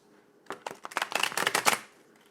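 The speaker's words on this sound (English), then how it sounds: "Let's get one more shuffle here" A deck of tarot cards being shuffled, a quick riffling burst of crisp papery flutters and taps lasting a couple of seconds, close and clear with no talking.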